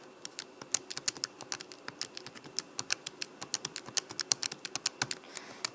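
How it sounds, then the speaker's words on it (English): Rapid keypresses entering numbers on a calculator, a steady run of crisp, close clicks at an even, quick rhythm with no talking. "take a second, type them in your calculator"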